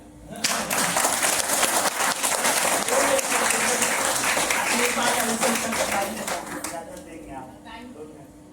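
An audience at a seminar claps together in a long, loud, dense round of applause that lasts several seconds, then thins out and fades into scattered claps.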